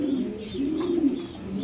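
Healthy pet pigeons give low, throaty cooing that rolls on steadily at close range, with a few soft higher chirps mixed in.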